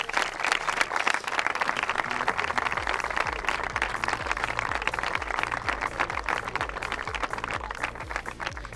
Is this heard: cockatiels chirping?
no